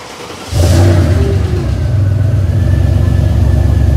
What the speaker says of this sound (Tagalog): Rumble po no ng V8.